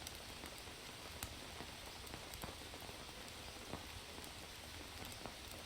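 Rain falling in the survival video game Green Hell, a faint steady patter with scattered sharper drops.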